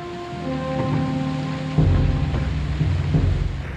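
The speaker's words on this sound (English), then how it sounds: "Stormy weather 2 weeks after D-Day did not help matters." Stormy weather with rain falls steadily, and a deep thunder rumble builds partway through and continues to the end, loud and close.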